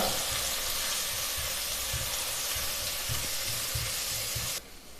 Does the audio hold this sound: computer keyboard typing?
no